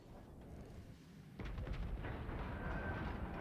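Warship guns fire in the naval battle game World of Warships Legends, a deep rumbling boom that swells midway and rolls on in a sustained, loud barrage of low thunder, with no speech over it.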